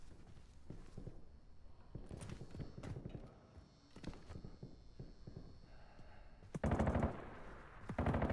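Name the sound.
machine gun fire in Call of Duty Warzone video game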